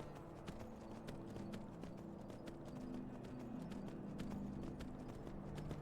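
Horse hooves clip-clop steadily in Skyrim, the quick even beats close and continuous across the whole stretch over a low game backdrop, with no talking.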